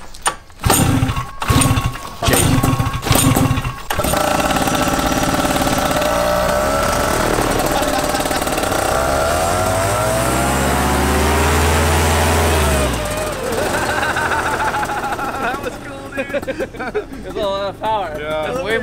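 A small aircraft's propeller engine starts up and runs, first as a few sputtering catches and then a steady loud drone that rises and falls with the throttle, with an occasional voice over it.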